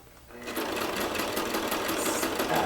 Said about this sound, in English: Just sew a little way and then turn my, sew a little ways and turn my